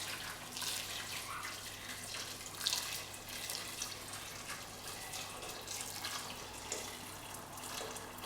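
Hot water pours into a pot of assorted meat pepper soup with blended spices, a steady soft splashing stream, fairly quiet and close, with no talking.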